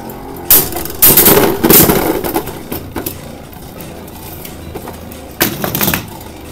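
Beyblade Burst GT spinning tops, Venom Devilos against Valtryek, clash in a stadium, with loud bursts of rattling, scraping impacts in clusters, separated by quieter stretches of whirring spin.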